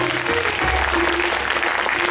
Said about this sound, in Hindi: अपने आप के लिए एक बार जोरदार ताली बजाइए आप